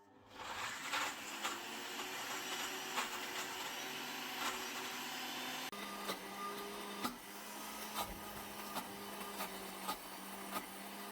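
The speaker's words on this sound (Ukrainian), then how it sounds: "Отже, я перебила в блендері песто." A kitchen blender whirs steadily while blending carrot-top pesto with lemon, its motor tone shifting slightly midway, with faint clicks and rattles from the jar.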